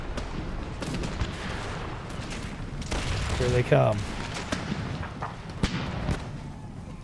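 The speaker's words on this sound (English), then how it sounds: "Oh, that cannon fire." Cannon fire across an Empire: Total War battlefield, scattered booms and volley crackle rolling under steady battle noise, with a voice speaking briefly in the middle.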